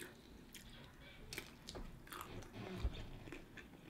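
Close, moist biting and chewing of shrimp during a seafood eating session, with soft squishy bites and small crunches spread irregularly across the moment, quiet and intimate with no talking.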